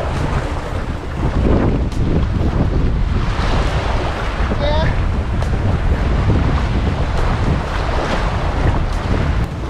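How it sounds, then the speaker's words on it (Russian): Strong wind on an uninhabited island buffets the microphone in loud, rough gusts, with a constant blustery roar and what sounds like water churning nearby. "и ветра много."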